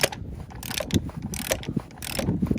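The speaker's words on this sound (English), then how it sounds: "Here's my torque wrench." A torque wrench ratchets on the oil drain plug of a Cadillac CTS 3.6 during an oil change, giving several close, sharp clicking bursts in an uneven rhythm, with no voices.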